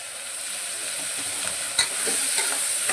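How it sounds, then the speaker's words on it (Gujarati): Onions and potatoes frying with ginger garlic paste in a pan, giving a steady, close sizzle with a few soft stirring scrapes and no voices. "બરાબર સાંતળવાનું."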